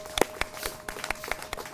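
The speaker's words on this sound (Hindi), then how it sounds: "तो एक बार जोरदार तालियां हो जाए।" Sparse, scattered hand claps from a small audience, a handful of separate sharp claps spread irregularly rather than a full roaring ovation, moderately distant with a faint steady tone underneath.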